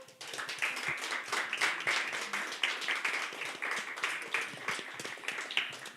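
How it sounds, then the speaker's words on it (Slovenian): An audience at a slam poetry evening during a Ljubljana poetry festival claps steadily for about six seconds, with dense, even, moderately distant applause and no speech over it. "si že za sam začetek zaslužite en velik aplavz za pogum"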